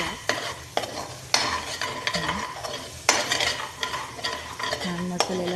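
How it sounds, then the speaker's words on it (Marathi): Brinjal is stirred into a fried spice masala in a pan, with rhythmic spoon scrapes and knocks over a steady sizzle, heard up close with no voices. "आपण त्याच्यामध्ये आता छान वांग टाकून हलवूया."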